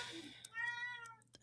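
A house cat meows once in a drawn-out, rising and falling cry right after knocking something over at a home wedding gathering, with brief clatters and faint room noise around it.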